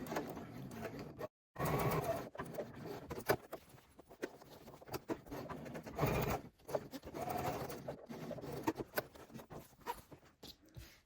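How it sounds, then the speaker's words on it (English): A sewing machine stitches a bag's zipper overlay pocket in short bursts with brief pauses, a quiet mechanical whirring heard fairly close. "I'm just going to sew straight down that side"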